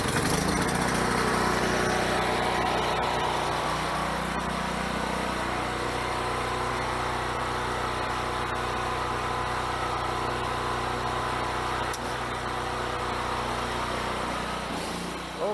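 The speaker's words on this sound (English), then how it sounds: "now I'll bring the engine online" A small portable generator engine runs steadily at a constant drone, close and loud throughout, while it supplies a home's 120V circuits through a panel breaker.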